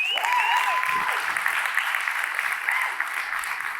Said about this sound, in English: A round of applause for Amy, I think.